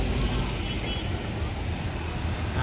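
Broadband traffic roar on the Binondo-Intramuros Bridge road with a motorcycle passing near, a steady loud engine and road rumble across the whole stretch, swelling slightly toward the end, with talk faintly underneath.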